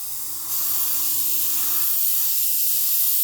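Gloss coat sprayed from a can onto the side of a small bin as a test: a steady, loud airy hiss that starts about half a second in and runs unbroken to the end, with a low hum fading out partway.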